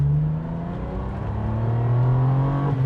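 A 1997 Ferrari 550 Maranello V12 accelerating on a road drive, heard from inside as a loud, smooth engine note that climbs steadily in pitch with a brief shift near the end.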